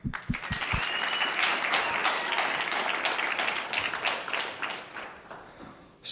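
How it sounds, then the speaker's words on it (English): An audience at a startup competition qualifier applauds steadily for several seconds, the clapping dense and sustained before tapering off. "wanted to give a round of applause for them"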